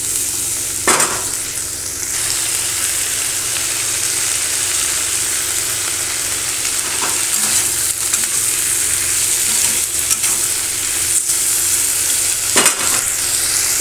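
Potatoes, onions, eggplant and beans stir-fried together in a pan give a steady, close sizzle with occasional spatula scrapes and stirring knocks, no one speaking.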